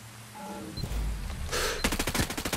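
Automatic gunfire in the video game Ghost Recon Breakpoint, a rapid burst of shots following a deep boom, loud and close, with no speech.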